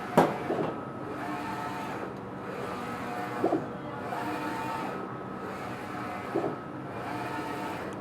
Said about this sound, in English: we can see the printer start to print